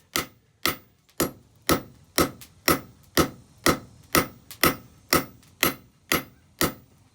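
A hammer striking forged steel on an anvil to taper the end of a steak flipper, about fourteen sharp ringing blows in a steady, even rhythm, loud and close with no talk.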